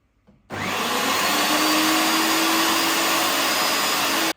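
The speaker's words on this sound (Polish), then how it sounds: "Teraz te bardziej tłuste kawałki mielę na sitku 5 mm." An electric meat grinder minces fatty pork pieces through a 5 mm plate, a steady loud motor whine starting abruptly after a brief quiet moment and running continuously before cutting off.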